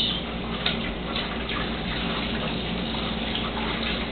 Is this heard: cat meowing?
no